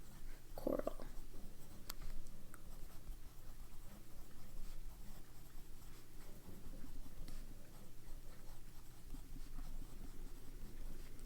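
A fountain pen with a medium nib writes in Van Diemen's Underwater Fire Coral ink, making a soft continuous scratching on paper under a steady quiet background hiss, with no one talking.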